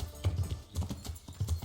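Horse hooves clip-clop in the medieval game Kingdom Come Deliverance, a steady trotting rhythm of paired thuds repeating about every half second, close and fairly loud, with no talk over them.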